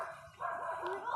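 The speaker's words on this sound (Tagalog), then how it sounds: "Nagkagulo kasi may aso." A dog barks during an outing on a mountain, with sharp yelps breaking out over a muddle of nearby voices.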